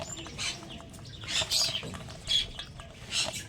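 Several pet birds chirp in bursts and flap their wings nearby, bright tweets and fluttering rising and falling in an uneven rhythm.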